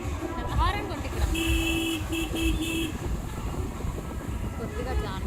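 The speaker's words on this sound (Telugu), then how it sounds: "హారన్ కొట్టి ఇక్కడ" A vehicle horn honks in a few short bursts and then one sustained blast on a busy road, loud and close, with traffic rumble and people talking throughout.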